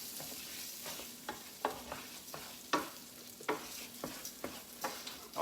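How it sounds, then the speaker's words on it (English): Rice being browned in a hot pan sizzles quietly while a spoon stirs it, with a series of short scraping strokes at an irregular rhythm, close and fairly faint. "We're going to actually brown this rice."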